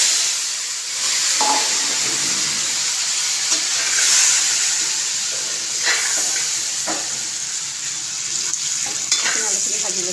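Potatoes sizzle steadily as they fry in a pan, with a continuous loud hiss and occasional stirring scrapes and spatters throughout.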